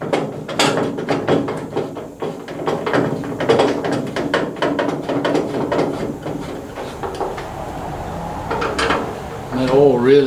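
Oiled screws are driven in on a 1985 Chevy K10 with rapid repeated ratcheting clicks in quick bursts, close and fairly loud, with someone speaking at times and a pause before a final round of clicking.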